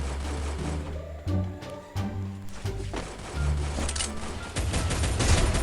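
Rapid bursts of gunfire in the mobile battle royale game Free Fire, dense repeated shots in quick rhythmic volleys running continuously for several seconds.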